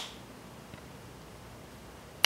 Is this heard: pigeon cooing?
no